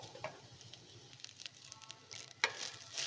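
Grated carrot and coconut sauté gently in a pan for a carrot burfi sweet. The sizzle is faint and low, with soft crackles and a sharper stir or scrape near the end.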